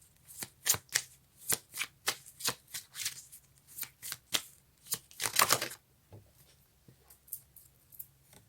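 Tarot cards shuffled and drawn up close, a run of crisp riffling and snapping bursts in an irregular rhythm, one longer flurry near the middle, then sparse soft card slides, with no speech.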